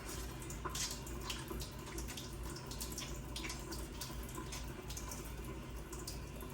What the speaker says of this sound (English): Next, we are going to wash the back of our fingers with the fingers interlocked.